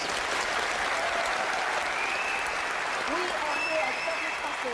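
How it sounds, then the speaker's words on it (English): A studio audience at a live television show gives steady, dense applause. The clapping stays loud and unbroken for the whole stretch, with a faint whistle-like tone above it. "Let's give David a big round of applause"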